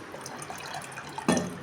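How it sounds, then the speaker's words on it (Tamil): A short, faint splash of water poured into pani puri paste in a kitchen, one brief pour standing out near the end against a quiet background. "ஏமா இதுக்குள்ளே தண்ணி போடுறீங்க?"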